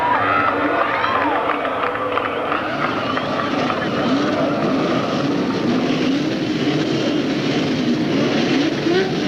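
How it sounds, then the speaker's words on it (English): Race car engines firing up and droning together at a 1983 CART road race at Riverside, a dense mechanical roar mixed with crowd noise and a commentator talking over it. "getting the engine started on his car"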